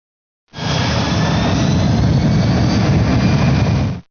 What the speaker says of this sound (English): Now raise the reverse thrust levers to the maximum reverse position.